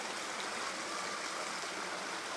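A stream (sapa) flows steadily through the countryside, giving a continuous broadband rush of water, close and even throughout, with no voices.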